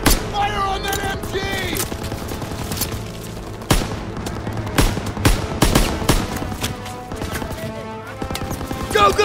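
Machine gun fire rattles in dense repeated bursts during a World War II battle in Call of Duty: WWII, with heavy booms and explosions mixed in and loud throughout, alongside game music and battle ambience.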